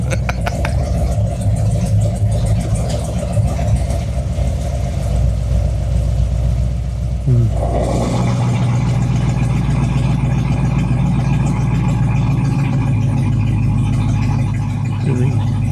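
A Pro Touring 1969 Camaro V8 idles with its exhaust cutouts open, giving a loud, rough, low rumble that is steady throughout and has a brief pitch change midway, all inside a hard-surfaced building.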